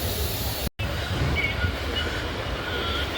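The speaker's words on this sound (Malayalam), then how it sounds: "ഇവിടുന്ന് ട്രെയിൻ എടുത്തിട്ടുണ്ട്." A long passenger train with mostly general-class coaches and a few AC and sleeper cars pulls out of Punalur station in Kerala, giving a steady, loud rumble of rolling wagons close by, with no voices.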